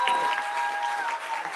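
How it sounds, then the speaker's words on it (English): A brief round of clapping from a live audience in Minneapolis honoring a guest, fairly close and steady, with a thin sustained tone running underneath. "Another applause, please, for Nekima Levy Armstrong."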